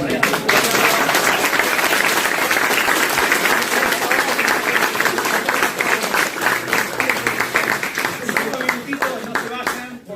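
An audience claps to close a constitutional seminar on liberty and social rights, with dense and sustained applause from a hall crowd that thins toward the end.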